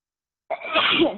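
A single sneeze bursts out after a brief silence, close and fairly loud, with a short breathy tail.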